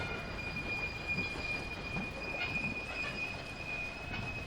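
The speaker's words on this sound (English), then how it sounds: "There's another train coming in, which I'm guessing is coming in from the other side, maybe." Trains running in the railway-building video game Railway Empire, set in the Sierra Nevada in 1863: a steady rumbling rail hum with a faint high wheel squeal, continuous and moderately distant, with no talk over it.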